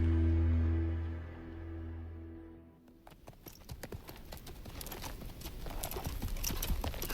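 Horses' hooves clip-clop in a steady, close rhythm that starts partway through, after a low sustained tone, and grows a little louder toward the end with no talk.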